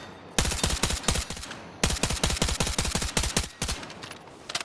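Automatic weapon fire in the video game Battlefield 6 rattles out in two loud, close bursts of rapid shots, separated by a brief pause, with no talking.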